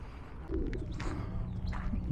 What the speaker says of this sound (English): There's a lot of pigeons up there.